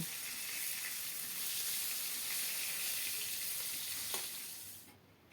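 Small koi fish fry in hot oil for a cabbage and koi fish curry. A dense, even sizzle hiss holds steadily nearby, then drops away abruptly at the end.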